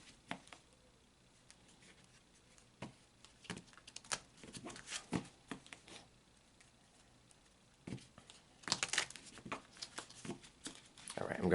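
Repeated crisp riffling and slapping of an oracle card deck being shuffled, in irregular bursts that grow louder toward the end, with someone talking softly at times.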